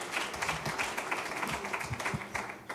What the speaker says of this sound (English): I didn't think I'd get applause for that